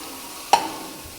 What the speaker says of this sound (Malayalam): പേസ്റ്റ് ഇട്ടിട്ടുണ്ട്. ഞാൻ ഇളക്കിക്കോട്ടെ.